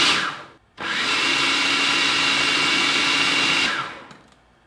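A kitchen blender whirs loudly as it pulses granulated sugar into superfine sugar, a steady high-pitched motor roar of about three seconds that starts abruptly after a short blip and winds down at the end.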